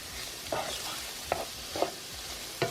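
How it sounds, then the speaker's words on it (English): Bacon browning in a pan as it renders its grease: a steady, moderate sizzle broken by four spaced stirring scrapes, with no voices over it. "We're just gonna let it make that awesome bacon grease"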